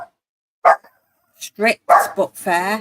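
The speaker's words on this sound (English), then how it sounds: "I apologise for that barking." Pansy, a small pet dog, barking at someone at the door: a few short, sharp yaps up close, interleaved with a person talking.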